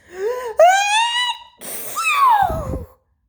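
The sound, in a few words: voice imitating a sneeze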